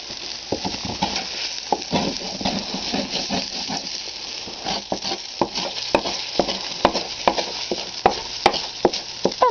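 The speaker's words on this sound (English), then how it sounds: "And I can cook my eggs on here." Eggs frying in oil directly on a stove burner, a steady close sizzle and hiss with scattered sharp crackles and pops growing more frequent, no voices.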